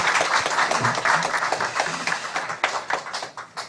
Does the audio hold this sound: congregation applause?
yes